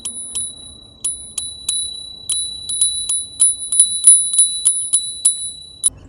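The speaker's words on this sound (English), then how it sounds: "Got a little bell. Get out of the way. Aggressive bell." A small handlebar bell on an Engwe L20 2.0 e-bike dings repeatedly in quick, bright, metallic strikes, about a dozen close rings in an uneven rapid rhythm with almost nothing else around.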